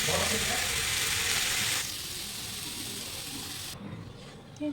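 Cauliflower and potatoes frying with spices in a pan, giving a loud, steady broadband sizzle that drops to a softer crackle partway through, with a brief clatter near the end.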